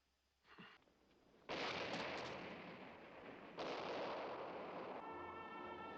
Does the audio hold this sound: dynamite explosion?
yes